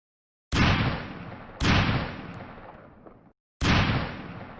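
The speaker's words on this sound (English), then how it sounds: "This explosion really freaks me out." Explosion sound effect from the Hero Jet Pack video game plays three times, each a sharp loud burst that decays into a rumbling tail, separated by short silences, with no talking.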